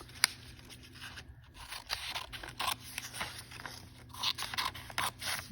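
Scissors snipping slits into a paper foldable, a series of soft crisp cuts and scrapes at close range, fairly faint, with no voices.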